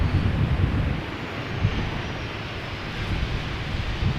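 A jet aircraft comes in to land at Schiphol Airport, heard as a loud, continuous low rumbling roar with wind buffeting that holds steady throughout.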